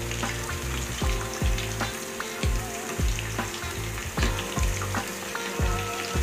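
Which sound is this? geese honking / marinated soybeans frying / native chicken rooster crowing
marinated soybeans frying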